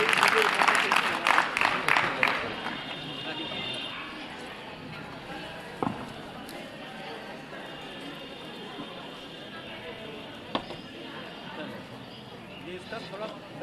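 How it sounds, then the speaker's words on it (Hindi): Audience at an NSS programme applauding to welcome the chief guest onto the stage, a burst of clapping in the opening seconds that fades into crowd murmur, with people talking afterward. "जोरदार तालियां सर के लिए बजा दीजिए"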